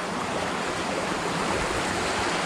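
Water rushes steadily through a drainage tunnel that carries it out of a woodland, a loud, continuous, close-up wash of flowing water with no voices.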